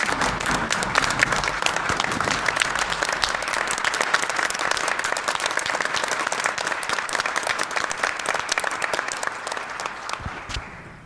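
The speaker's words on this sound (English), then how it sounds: "So I would like to have a round of applause for Jane" Sustained applause from a sizable crowd, dense and even, tapering off toward the end.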